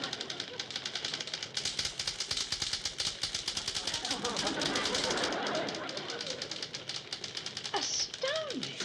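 Rapid typewriter keystrokes clatter in a dense, steady stream in a typing classroom, with a few brief higher squeaks near the end.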